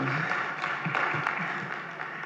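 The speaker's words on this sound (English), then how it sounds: "Please let us give him a round of applause" Applause from a conference audience at a privacy symposium in Africa, a steady moderately loud clatter of many hands that holds throughout with faint voices mixed in.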